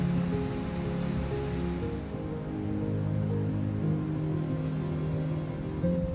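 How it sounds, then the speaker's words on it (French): A waterfall in Glen Etive, Scotland, gives a steady, loud rushing wash of falling water that continues without a break, with low tonal sounds running underneath it. "nous nous arrêtons au pied du Glen Etive pour profiter d'une belle cascade"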